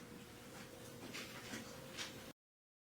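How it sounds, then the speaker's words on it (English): A dog whimpers faintly in the background at a court hearing during closing arguments, a few soft high whines rising over a steady low hum and room noise. "sorry about the dog in the background."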